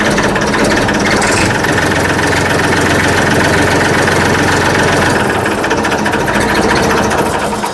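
An Eagle 41 tractor engine idles close by with a loud, heavy, thick rumble, a steady rapid knocking beat that holds without pause throughout.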